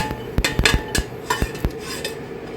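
Mung beans stirred into pumpkin in a pan with a utensil, a string of quick metallic scrapes and clinks, close and fairly loud, in irregular bursts with no talking.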